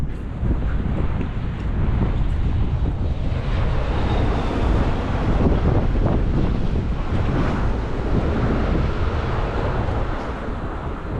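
Strong wind buffets outdoors in Vienna, Austria, in a continuous low roar, gusting and rumbling against the microphone without letup.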